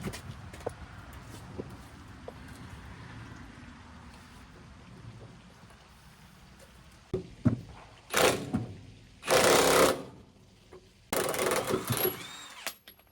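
An impact wrench on a bolt of a Chevrolet squarebody truck fires in several loud, harsh bursts of rattling hammering, separated by quieter pauses with faint background clatter.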